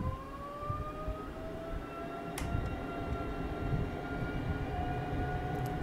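The Darkstar jet engine in Microsoft Flight Simulator 2020 spools up to full throttle, giving a rising whine over a steady low roar. It is fairly faint and sustained, with no talk.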